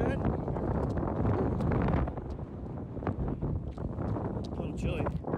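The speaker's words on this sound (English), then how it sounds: "A little chilly or a little windy." Strong wind buffets the microphone during an outdoor five-mile run, producing heavy low rumbling gusts throughout, with voices talking underneath.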